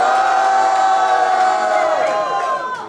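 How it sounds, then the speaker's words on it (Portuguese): Crowd at a Brazilian student rap battle final, loud sustained cheering and shouting that holds for about two seconds and then slowly fades. "barulhos pra quem gostou das rimas da Ravena"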